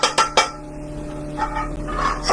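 Pots and pans being banged together in a children's music-play session, a few sharp metallic clangs at the start followed by lighter clinking and rattling, close and fairly loud.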